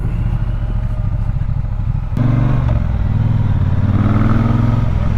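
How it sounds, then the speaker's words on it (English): A 2020 Triumph Speedmaster motorcycle riding slowly with the throttle and clutch feathered and light rear brake, its engine a steady low close rumble that rises slightly in pitch and load partway through. "I am controlling the throttle and feathering the clutch with a little pressure on the rear brake like I'm supposed to."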